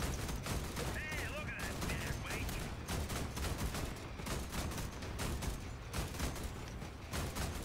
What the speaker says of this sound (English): Suppressing fire on the hill.